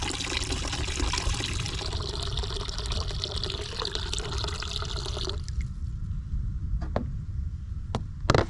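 Leftover water from a storage barrel is poured into chicken drinkers at a hoop coop, a steady close splashing pour for about five seconds, then a few scattered drips and taps.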